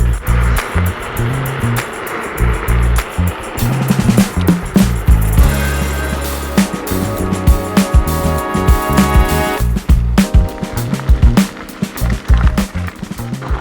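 An Ausom L2 Max electric scooter rides off-road with both motors in race mode. Close, rough rumbling and rattling from the tires on uneven ground mix with wind noise, and there are frequent bumps and clunks.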